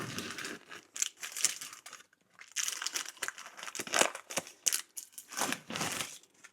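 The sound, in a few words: baking paper being peeled off air fryer bread loaf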